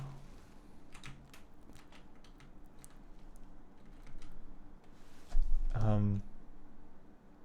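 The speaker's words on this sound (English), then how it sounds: "And then manually type that in." Quiet, sporadic clicks of typing on a computer keyboard, with a brief louder burst of sound partway through and soft background noise.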